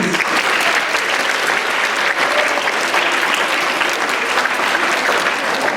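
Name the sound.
audience applause for ATB students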